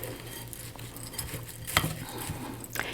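Sunflower seeds and sticky peanut butter are stirred together in a bowl for a bird feeder craft, giving a soft, continuous scraping and patter with one sharp clink of the utensil against the bowl.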